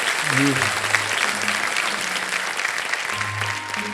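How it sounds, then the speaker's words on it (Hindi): A studio audience at the Kaun Banega Crorepati quiz show claps in steady, dense applause that fills the whole stretch, with a brief voice rising over it near the start. "हम देख रहे हैं बाकी सब लोग ताली बजा रहे हैं"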